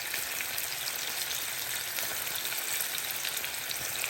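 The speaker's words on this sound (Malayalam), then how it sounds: "എന്നിട്ട് അതിനെ നമുക്ക് ഒരു 2 മിനിറ്റ്സ് കൊണ്ട് ഫ്രൈ ചെയ്ത് എടുക്കാൻ പറ്റും." Prawns for dynamite shrimp, coated in cornflour and maida batter, fry in hot oil with a steady, dense, close crackling sizzle that continues without pause and with no talk.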